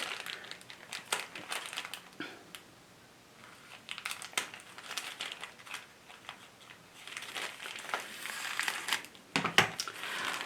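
Paper-cutting scissors snip through handmade printed fabric for a market tote, giving soft crinkly cuts and rustles in irregular bursts, close up and fairly quiet, with no talking.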